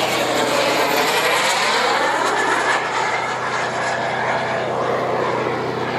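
A large radio-controlled MiG-29 model jet with a real turbine engine makes a fast, low pass at about 250 km/h, producing a loud, continuous roaring whine whose pitch sweeps as it rushes past close by.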